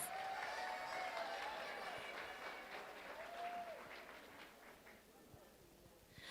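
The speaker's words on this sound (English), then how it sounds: "give her one more round of applause" Audience applause at the Cove's Got Talent finale, a sustained burst of clapping that fills the room loudly and gradually tapers off over several seconds.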